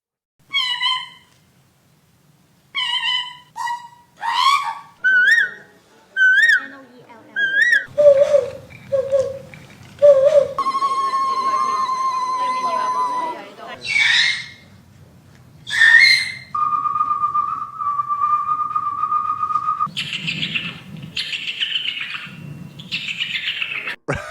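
A series of whistled and voiced bird-call imitations by people in a bird calling contest, chirps, trills and warbling notes one after another, some with faint background murmur.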